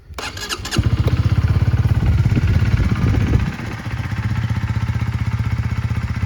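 A 2019 Honda CB125R 125cc motorcycle engine cranks with a brief whir, catches, then settles into a steady, even idle with a regular chugging pulse.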